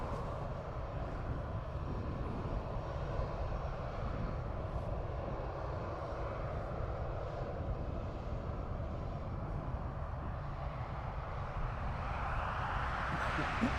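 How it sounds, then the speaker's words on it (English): An Aer Lingus jet departs Dublin Airport for Manchester, a continuous low engine rumble at a distance that builds toward the end. "So this Aer Lingus is off to Manchester, registration EIEDS"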